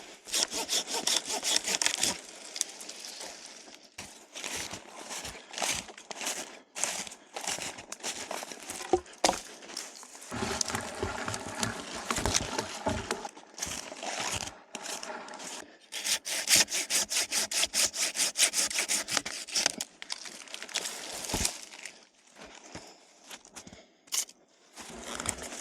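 Handsaw cutting through a heavy log wedged between trees at a -10°C winter campsite, steady loud back-and-forth strokes running in bursts with brief pauses throughout.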